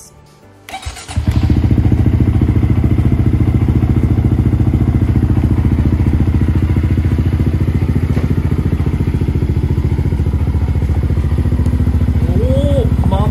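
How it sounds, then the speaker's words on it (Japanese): A Honda Monkey 125 motorcycle with a custom headlight starts with a short cranking burst, then settles into a loud, close, steady single-cylinder idle that runs evenly for the remainder. "それではエンジンかけます。"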